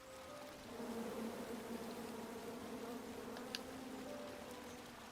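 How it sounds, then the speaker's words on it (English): Swarm of angry bees buzzing steadily in the King's Quest adventure game, a continuous droning hum at moderate volume that holds throughout, with no talk over it. "And then you chop down the tree full of angry bees?"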